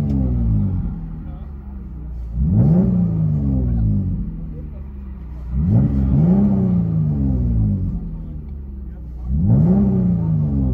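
A 2013 Jeep Grand Cherokee 3.6L V6 fitted with a Vibrant bottle resonator exhaust, heard from inside the cabin, rises in three separate revving pulls over a low idle drone, each climbing and then settling back.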